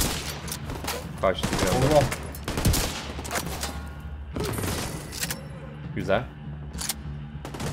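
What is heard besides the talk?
gunfire in video game The Division 2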